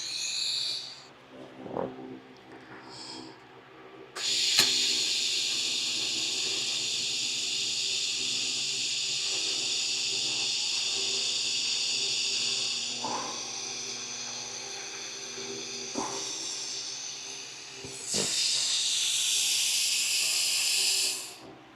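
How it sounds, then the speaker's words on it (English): Thin metal of a motorcycle oil tank is welded with filler rod at very low heat, giving a steady close hiss that stops and restarts in long bursts, with faint hum underneath and no talking. "This metal is crazy thin and it's like it's wanting to burn away, so I'm putting very little heat and adding a lot of welding rod."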